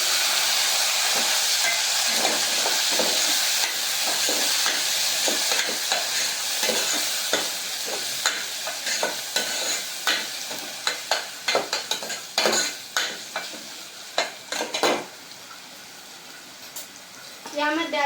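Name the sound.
tomato frying with garlic in a pan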